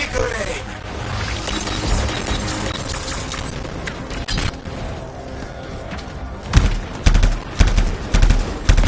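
Gunfire from Scars enemies in the video game Anthem, dense bursts and heavy thuds layered through a busy battle mix, with sharper impacts clustering toward the end.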